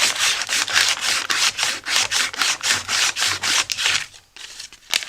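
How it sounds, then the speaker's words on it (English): Sandpaper rubbed by hand to clear buildup from a self-propelled lawnmower's drive wheel: a close, loud run of rhythmic back-and-forth scraping strokes, about fifteen in quick succession, then a short pause and a few final strokes. "We'll take and clean that off with some sandpaper."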